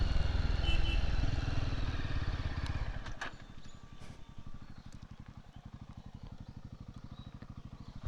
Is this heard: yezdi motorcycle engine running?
yes